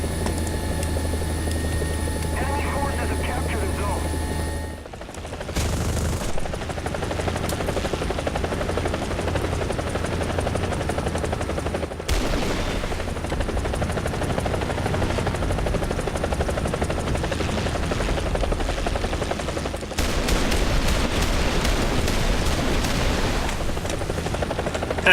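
A helicopter flies in the combat simulator DCS World, its rotor beating and turbine droning loudly and continuously throughout, with abrupt cuts and shifts in the engine noise as the camera view changes.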